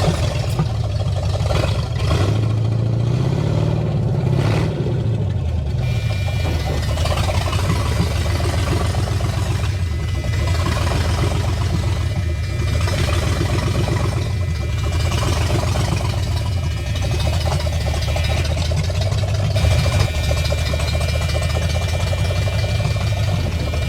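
A 1973 Ford Mustang Mach 1 idles after restarting with a dried-out distributor cap, its engine holding a steady, loud, low rumble with a brief rev early on.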